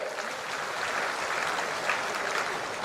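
A crowd claps steadily at a tribal dance event in Mandla, India, a dense wash of applause at moderate distance with no voices over it.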